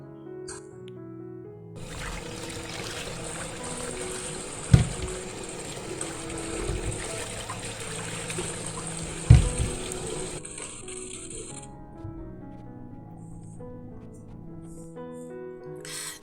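Peeled cassava roots are rinsed under a running kitchen tap, a steady gush of water with a couple of sharper knocks as the roots are handled, ending when the flow stops.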